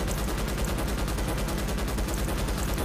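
Gunfire in a shooter video game, a dense, loud, unbroken stream of rapid shots packed tightly together for the whole stretch, with no voices over it.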